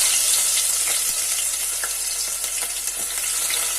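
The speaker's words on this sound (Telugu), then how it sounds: "ఇంకో పక్క కర్రీ కని ఆయిల్ వేడెక్కిందండి, దాంట్లో ఆనియన్ వేసుకోవాలి." Onions sizzling and frying in hot oil for a curry, a steady bright crackle filling the clip with scattered pops, close and fairly loud, no talking.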